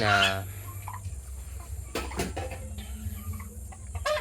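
Backyard chickens cluck close by in short irregular bursts, with a brief louder flurry partway through and low background noise throughout.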